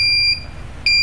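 A drone's locator buzzer alarm sounding: a piercing electronic beep that cuts off briefly and then resumes, loud and close, with no voices.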